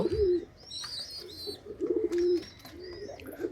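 Repeated low, throaty coos from a male khaki pigeon near at hand, several in a row, while small birds chirp and tweet higher up.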